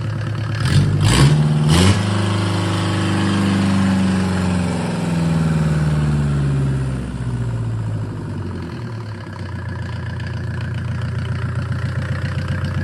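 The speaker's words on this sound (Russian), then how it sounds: "О, чорний димочок пустив. Не дымит, классный моторчик." A Mercedes OM601 2.0 diesel engine runs close by, starting with a few sharp revs and then settling into a steady, rough idle with a rhythmic clatter that carries on alone.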